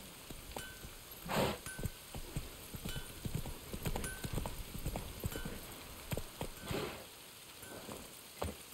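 Horse hooves clip-clop in a steady walking rhythm in The Witcher 3, with occasional louder steps over a faint ambient hiss and no talk.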